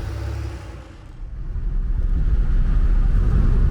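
A Porsche 964 911 engine runs with a deep, steady rumble that swells louder and rougher after a brief lull, close and alone without talk.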